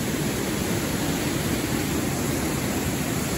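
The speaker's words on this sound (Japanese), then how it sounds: "さ、すごい滝です。" A large waterfall, the Otaki falls on the Kosuge River mountain stream, roars as a dense, constant broadband rush with no variation, loud and close, with no voices.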